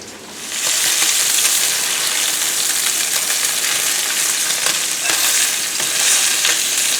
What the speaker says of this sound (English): And let's flip our bacon.